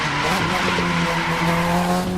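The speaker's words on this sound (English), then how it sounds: "Here we go, we're drifting now." A car drifting on a race course, its engine droning steadily at high revs while tires squeal and skid throughout, loud and continuous with no talk.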